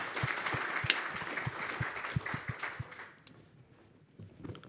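Conference audience applauding at FinTechTalk 2019, a modest burst of clapping with some distinct close claps, tapering off after about three seconds into quieter room sound.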